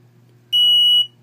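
One sharp electronic game-show buzzer rings out for about half a second, steady and piercing, then cuts off, leaving faint hum.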